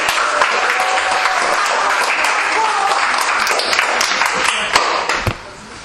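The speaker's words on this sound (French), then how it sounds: "Allez, on l'applaudit encore" An audience applauds a young player at a youth trophy ceremony, sustained crowd clapping that fills most of the stretch before fading near the end, with some voices mixed in.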